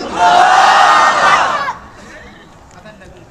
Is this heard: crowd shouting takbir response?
yes